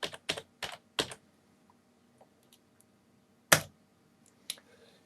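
Keystrokes on a computer keyboard, a quick cluster of sharp taps at the start, then scattered faint clicks and one louder press later, close and alone in a quiet room.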